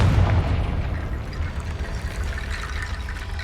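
A fiery Confringo spell blast in Hogwarts Legacy bursts with a heavy low boom at the start, then fades into a rushing, crackling rumble that holds steady to the end.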